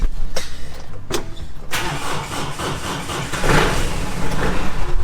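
An old tractor engine struggles to start on a cold morning on a farm: a few sharp cranking clicks and turns, then the motor catches into a loud, rough, rumbling idle close by.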